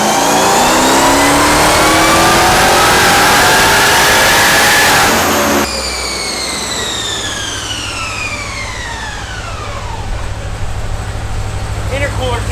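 A 900-horsepower Jeep Trackhawk with a ported Demon supercharger screams loudly through a rising rev, then cuts off, and the whine falls away as the engine settles to a lower, steady drone.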